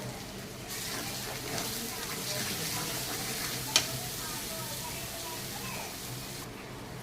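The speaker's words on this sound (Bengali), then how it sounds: "আমার মশলাটা কিন্তু ভাজা হয়ে গেছে।" Turmeric, salt and other spices frying in a pan for a fish curry, giving a steady, soft sizzle and faint stirring scrapes throughout, moderately close with no talking.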